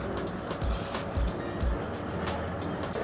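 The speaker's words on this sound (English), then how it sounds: "there's literally trucks rolling back here" Trucks roll through a service area behind the San Diego Comic-Con convention grounds, with a low, steady engine rumble, a few heavy thumps and a rapid series of short beeps.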